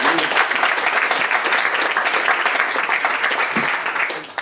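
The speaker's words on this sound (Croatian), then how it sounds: "Još jedan aplauz za nju." A hall audience at a literary talk applauds steadily and densely for several seconds, a close, even wash of many clapping hands that tapers slightly at the end.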